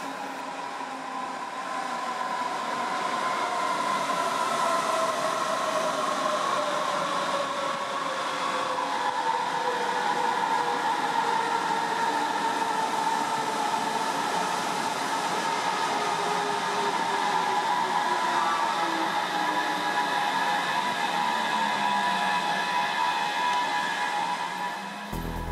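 An S-Bahn train on the S3/S4 line pulls into the underground platform of Frankfurt Hauptbahnhof, a steady loud rolling rumble with descending brake and motor whine tones sustained throughout, no talking.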